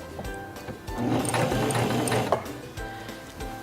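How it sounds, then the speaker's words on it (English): A Singer Talent 3323 portable sewing machine stitches through fabric with a close, rapid mechanical whir that builds to a steady run, then slows and stops. "Release the reverse lever and sew to the end."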